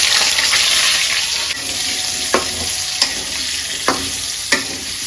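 Potato pieces fry in hot oil, giving a loud, constant sizzle with a few sharp scraping clinks of a spatula turning them at regular intervals.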